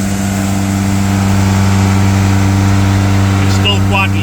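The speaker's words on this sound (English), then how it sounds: "And then if I increase the throttle," Opel Corsa engine running steadily at close range with a strong low hum, rising slightly as the throttle increases, while a voice talks briefly near the end.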